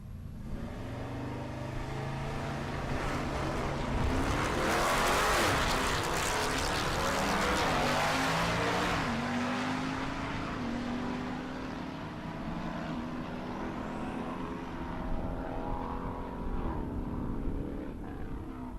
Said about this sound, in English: David Sharrow in the right lane, the Camaro, dialed 1409.